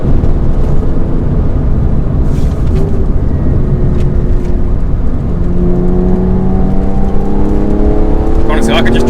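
Porsche 996 Carrera 4S on the road, heard from inside as a loud constant engine and road drone, with engine pitch climbing as it accelerates and speech over it.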